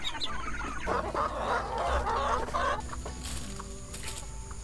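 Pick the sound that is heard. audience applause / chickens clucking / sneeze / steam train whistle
chickens clucking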